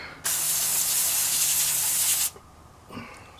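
Brake cleaner sprays from an aerosol can onto a rag in a steady, close, loud hiss lasting about two seconds, then stops abruptly, followed by faint handling sounds.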